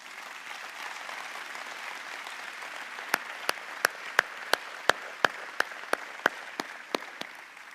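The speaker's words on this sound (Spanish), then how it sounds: "¿Usted tiene algún motivo para darle un aplauso bien fuerte al Señor?" A church congregation applauds in a dense, steady wash of clapping, joined midway by a run of sharp, evenly spaced loud claps, about a dozen in rhythmic sequence.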